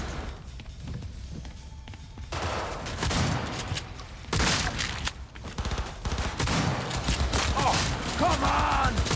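Gunfire erupts in the video game Cyberpunk 2077 Phantom Liberty, with dense bursts of automatic shots and thuds coming in waves, loud and close, while voices speak between and over the shooting.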